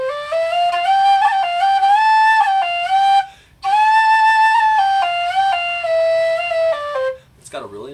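A Reviol low tin whistle plays a clear, breathy melody of sustained notes in two phrases separated by a brief pause, loud and close with no talking.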